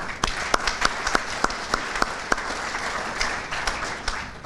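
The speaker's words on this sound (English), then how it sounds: "Round of applause for them." Audience applauding the Hamilton School Board and administration at a civic day for a graduating class, a steady wash of many hands clapping with a few sharp, close individual claps standing out, no voices.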